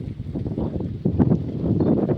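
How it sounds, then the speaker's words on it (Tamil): Cold wind blows around a mountain spot in Nepal, a loud, close, gusty rumble buffeting the microphone, rising in strength partway through, with no talk. "ஐஸ் காற்று வீசுது."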